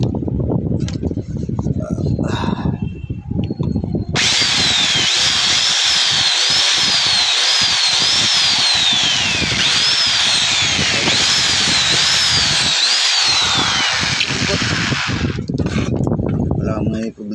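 A German-made Black & Decker power drill whines loudly and steadily for about eleven seconds, its pitch rising and dipping in repeated surges, while people talk before and after it runs.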